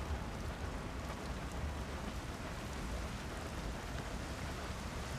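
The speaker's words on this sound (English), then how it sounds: "Oh, it's raining. All of a sudden." Steady rain in a video game hisses continuously at moderate volume, a dense even wash of drops with no voices.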